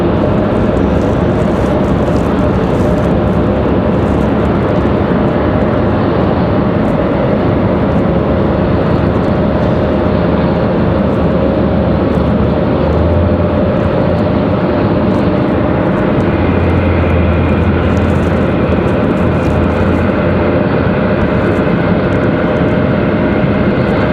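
An Air France airliner departs from Raleigh-Durham International Airport. A steady, loud jet-engine roar holds through the whole stretch with a low rumble that swells slightly near the end, and no one speaks.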